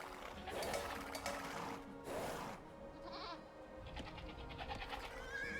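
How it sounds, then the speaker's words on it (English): Sheep bleating in the game Age of Empires 2 Definitive Edition, a few short bleats over steady background game sound and music. "Oh, nice little sheep."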